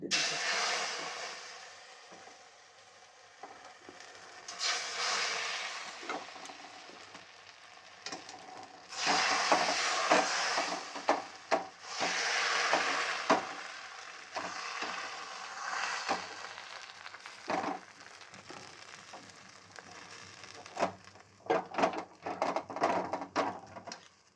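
Chakli batter for soru chakli pitha fries in a wok, giving a steady sizzle that swells into louder crackling bursts as more batter hits the hot oil, with faint stirring and no talk.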